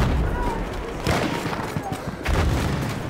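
Gunfire in the video game Battlefield 1, with bursts of shots and booms in a desert house-clearing fight, loud and dense with two sharp surges, under a player's talk.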